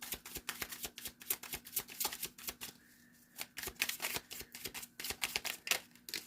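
Tarot cards being shuffled close up, a quick run of crisp riffling flutters with a brief pause midway before the rapid snapping resumes, no talking.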